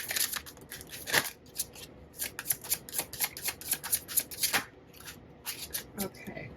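Tarot cards shuffled by hand in quick, crisp riffling bursts that come in an uneven rhythm with short pauses, close and moderately loud, with no talking.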